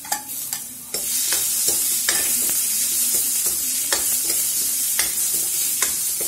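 Chopped chilies hitting oil with golden fried onions for a chicken curry, a loud steady sizzle broken by regular sharp spatula strikes against the pan, close and with no speech.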